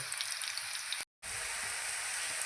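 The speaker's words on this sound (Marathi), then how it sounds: "हिरवी मिरची आपल्याला छान परतून घ्यायची आहे" Green chillies sizzle steadily in hot oil in a pan, a dense, even frying hiss that cuts out briefly once before carrying on.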